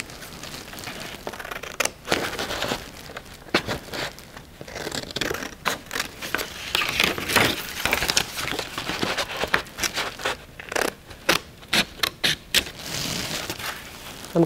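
A folded paper mould pattern is cut out with scissors, making repeated close snips and crinkly paper rustles in uneven bursts with no voices.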